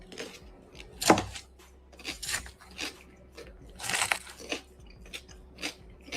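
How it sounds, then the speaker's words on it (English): Someone crunches and chews a salad, with sharp bites and crisp crunching bursts coming at irregular intervals, close and fairly loud, and quieter chewing in between. "So this is her eating her salad, angry than a motherfucker."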